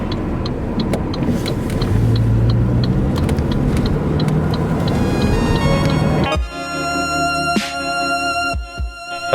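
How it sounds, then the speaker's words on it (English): A car engine hums at a steady drone from inside the cabin while driving, with road rumble and faint ticking, until the noise drops abruptly partway through and then quieter mechanical sounds and thuds follow. "I've been driving this car for 10 years now."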